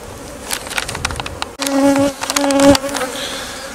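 Honeybees buzz steadily and close around an apiary hive, a continuous droning hum with a few louder passes near the listener, no voices.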